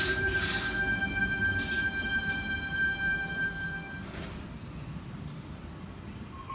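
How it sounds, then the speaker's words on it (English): A Sydney T4 line train pulls away from the platform at Erskineville, its wheels squealing high and steady over a loud continuous rumble of rolling railcars, close by and alone. "Bondi Junction service departing platform 3."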